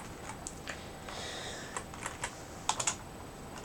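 Typing on a computer keyboard, a quiet irregular run of light key clicks with a few sharper taps near the end, close and alone over faint room hiss.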